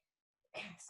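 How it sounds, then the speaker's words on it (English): A single close sneeze bursts out after a faint intake of breath, loud and sharp, then trails off briefly. "sorry, I'm sneezing."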